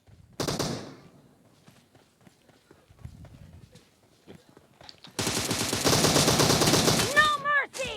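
Rapid automatic gunfire from a P90 in PUBG Mobile: a short burst near the start, then a long dense fast-firing stretch at the end, loud and close, with scattered quieter game sounds between.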